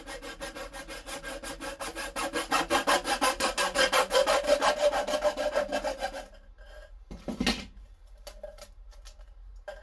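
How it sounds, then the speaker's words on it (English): A hacksaw cuts through a pipe with rapid, even back-and-forth rasping strokes, close and loud, for about six seconds, then stops and leaves a few faint knocks. "Just going to cut it out here with a hacksaw"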